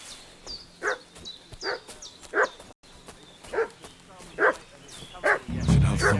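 Dog in Kingdom Come: Deliverance 2 barking several times at a steady distance, a short isolated bark spaced every second or so, with a low rumble rising at the end.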